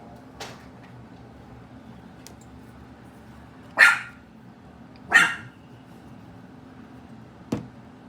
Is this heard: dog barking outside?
yes